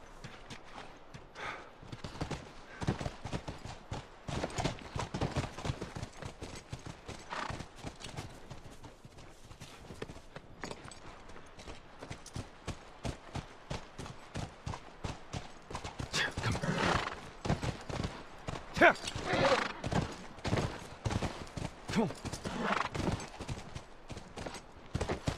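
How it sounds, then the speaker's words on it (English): Horses in The Last of Us video game trot with steady, fairly close clip-clop hoofbeats throughout, broken by occasional whinnies and neighs, with faint talk now and then underneath. "Come on, back to the horses."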